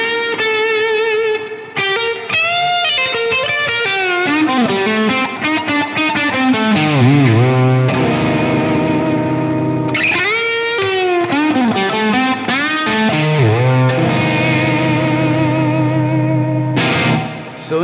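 An electric guitar plays a melodic phrase through Source Audio Ventris reverb and Nemesis delay pedals, with a slapback echo and a wide hall reverb. Notes ring out and bend, and sustained tails fill the pauses, loud and close with no talking.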